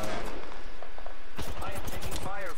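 Gunfire in the video game Apex Legends, heard as dense overlapping shots with a voice speaking over the second half.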